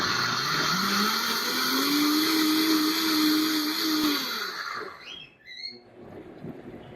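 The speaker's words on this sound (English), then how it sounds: "so you blend it until it's liquefied and you can't see any more chunks" Countertop blender whirring loudly as it purees simmered homemade tomato sauce, a steady motor drone for about four seconds that then winds down and stops, leaving faint clatter.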